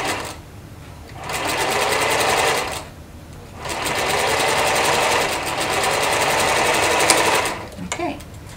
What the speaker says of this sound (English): sew it right there, and finish down here